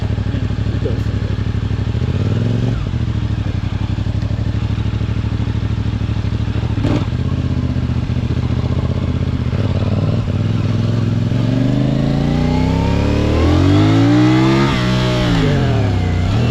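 A CFMOTO 450CL-C bobber motorcycle ridden on the road, its engine drumming loud and close throughout, then revving up through rising and falling pitch sweeps as it accelerates near the end.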